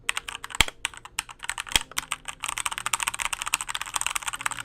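Typing on an unmodded Keychron K4 mechanical keyboard, fast clacky keystrokes in dense bursts with a few louder key hits, up close with no voices.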